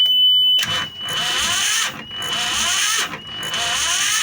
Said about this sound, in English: I'll just try and start this engine again.